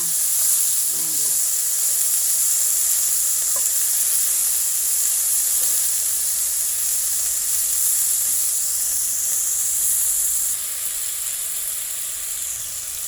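Pork and snow peas stir-frying in a pan give off a steady loud hiss of steam and sizzle, constant throughout and easing slightly near the end, with no clear talking.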